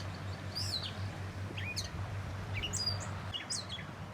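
Sparrows chirp in short, bright bursts repeated every second or so outdoors near a shoreline where egrets are present, clear over a steady low hum and background noise, with no talking.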